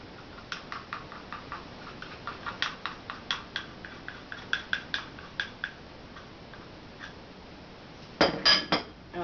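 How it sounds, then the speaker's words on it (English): Repeated light clicks and taps of a utensil against a bowl, fairly steady in rhythm, ending with a few louder clinks. "now I'm going to go ahead and I'm going to mix all of the ingredients"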